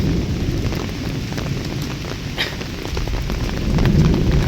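Heavy, steady rain pours down in Bangladesh during a days-long downpour, a dense continuous roar of drops that swells slightly louder toward the end, with no voices.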